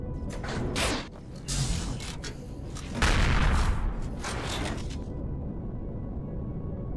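Bombs exploding during a space fighter battle in the Empyrion game, with several loud booming crashes and whooshes over about five seconds before a steady engine drone remains.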